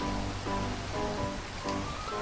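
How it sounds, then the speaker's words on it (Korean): Steady rain falling in Minecraft, heard as a dense, even hiss with a soft watery patter that continues without a break and has no talking over it. "아 근데 비가 와서 다행이다."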